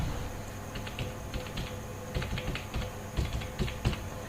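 Typing on a computer keyboard while entering a CSC ID into an online registration form, with rapid irregular clusters of close key clicks throughout.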